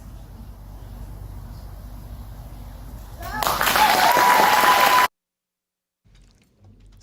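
A spoken word competition audience breaks into a short burst of clapping that swells and then cuts off abruptly, following a quieter stretch of room noise.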